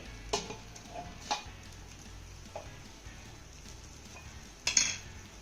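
The lid is lifted off a pan of drumstick pods cooking on low flame, giving a few soft metallic clinks and scrapes over a faint simmering hiss, with a clearer clank near the end.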